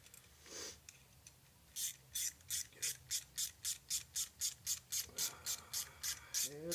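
A connecting rod bolt with fine threads is turned out of an LS V8 engine, giving a quiet, even run of about fifteen rasping, ratchet-like clicks in quick rhythm, close by.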